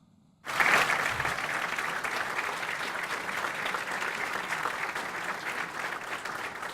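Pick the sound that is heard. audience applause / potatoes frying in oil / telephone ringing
audience applause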